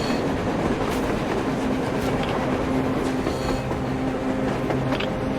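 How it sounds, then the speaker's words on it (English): In the Metro Exodus video game, a train rolls along its rails on the surface, a loud continuous rumble with a steady clatter and faint metallic squeal running unbroken from start to finish. "A train! A damn train on the surface!"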